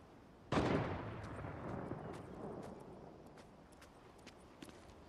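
A single loud shot rings out in a Fortnite match and trails off into a long, fading echo, with faint clicks and distant sounds after it.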